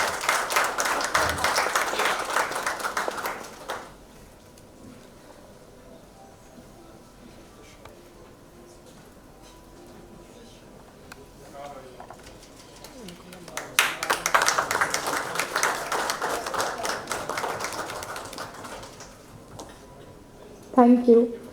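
Round of applause at a real estate conference podium event, a burst of clapping for a few seconds, then a quieter stretch with faint murmur, then a second longer swell of applause and a brief clatter at the end.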